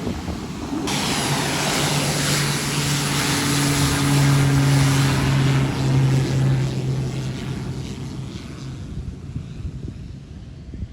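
A Pilatus PC-12 turboprop takes off with a tailwind, its propeller drone and engine roar building loud and steady with a droning tone, then slowly fading as it climbs away.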